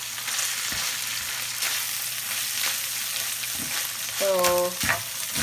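Beef sizzles steadily in a hot pan as it turns brown and crispy, with a loud continuous crackle, occasional stirring knocks and a short tonal squeak near the end.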